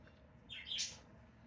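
A baby pet cockatiel perched on a hand gives a single short, quiet chirp over soft room background.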